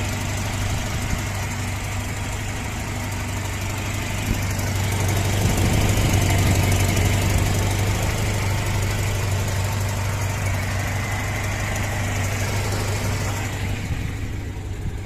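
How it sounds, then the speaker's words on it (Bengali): A used Japanese Toyota Noah's engine idles steadily nearby, a low, even rumble with faint vibration that stays constant throughout, no voices over it. "আপনারা শুনতে পাচ্ছেন গাড়ির অরিজিনাল সাউন্ড,"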